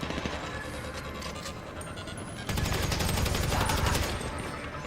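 Sustained automatic gunfire in Grand Theft Auto Online during a mission, dense and continuous, growing louder and busier halfway through, with game background noise throughout.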